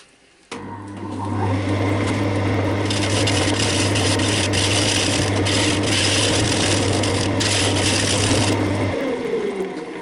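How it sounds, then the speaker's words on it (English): Square carbide cutter shearing a big wooden bowl on a lathe: a steady, loud scraping rasp with a constant low motor hum, holding unbroken for about eight seconds before the tool lifts off. "I've been having a quick go with the square, hang on, excuse me, square carbide cutter, just to see if I can get some nice cuts on there"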